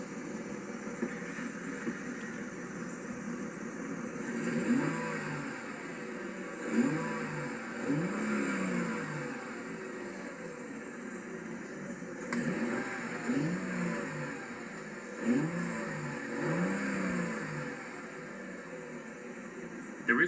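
A 2004 Chrysler Crossfire engine revs repeatedly toward its limiter around 4,000 RPM, with a smooth, distinctive exhaust note swelling and falling in several bursts over a steady idle, heard close and without speech.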